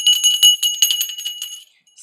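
A small hand bell rings in rapid, repeated bright jingles for spiritual protection, close and fairly loud, then fades to silence near the end.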